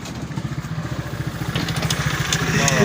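Motorcycle engine running nearby, a rapid pulsing putter that grows slightly louder, with light clatter.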